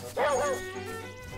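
A small cartoon dog in Zelda: Link's Awakening gives a short, high yipping bark, bright and brief over a soft game backdrop.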